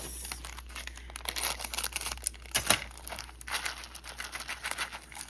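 Close, quiet crinkling and tearing of a plastic packet, with irregular rustling bursts over a low steady hum.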